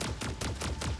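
A Pod Gun on a mech fires in Mech Arena as a rapid, evenly spaced burst of about six loud thumping shots in just over a second, close and alone.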